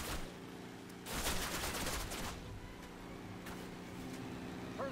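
Rapid gunfire rattles during a car chase in Call of Duty, with a strong burst early on and scattered shots afterward over a steady engine drone.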